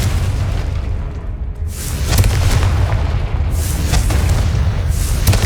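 Bombarda and Confringo spell explosions in Hogwarts Legacy, deep booming blasts that roll one into another in a loud, sustained rumble with sharp bursts on top.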